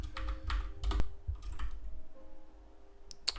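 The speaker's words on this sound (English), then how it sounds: "I don't know how to type anymore." Typing on a computer keyboard, close and fairly quiet, with clustered bursts of key clicks separated by short pauses and a single sharp tap near the end.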